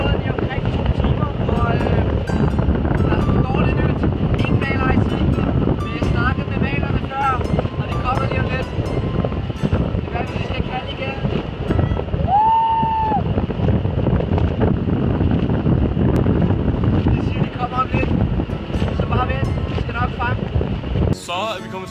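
A boat ride at sea in the Philippines out on a whale shark search, with steady wind buffeting the microphone and engine and water noise rumbling continuously, while people talk over it throughout.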